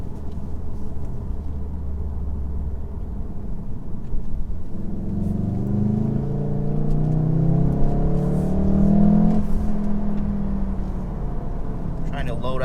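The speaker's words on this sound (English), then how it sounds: "I'm going to get on the highway here." A VW MK7.5 Golf R on aftermarket springs pulls onto a highway, its engine rumbling steadily and then rising in a revving climb as it accelerates, with broad road and tire noise throughout.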